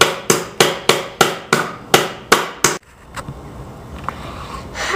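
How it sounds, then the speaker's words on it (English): A hammer strikes wood about nine times in a quick, even rhythm while a bird house is being built, loud and close, then stops and leaves faint room noise with a few soft knocks. "Alright, you keep hammering."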